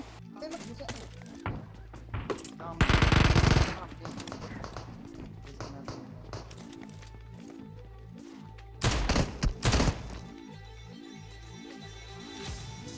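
Gunfire in the mobile battle-royale game PUBG Mobile on a Redmi Note 8 Pro, with two loud bursts of rapid shots, each lasting about a second, over continuous droning game ambience.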